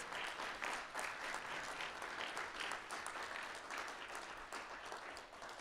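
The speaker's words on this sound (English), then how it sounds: "I want to give you a giant round of applause." Applause from an audience at the end of a panel talk on future technologies and the past, held at ICAT, a sustained wash of many hands clapping at moderate distance with no one speaking over it.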